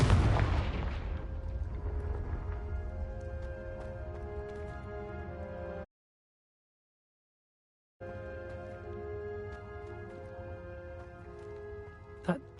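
The Confringo explosive spell blasts off in Hogwarts Legacy. One loud, booming burst lands right at the start and fades over about a second. Game ambience and music continue after it, broken once by a short stretch of silence.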